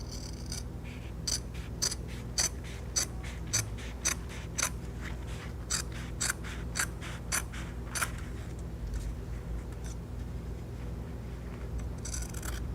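Scissors snipping through fabric while making a fabric wallet, heard as a regular series of crisp, close cuts that repeat steadily about every half second, over a faint constant background hum.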